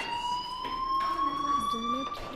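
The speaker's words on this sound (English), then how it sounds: "do you hear that fire alarm? That means you should be outside." A fire alarm rings in the video game Life is Strange 2, a steady electronic tone sounding continuously and fairly loud, with other game sounds and a voice layered underneath.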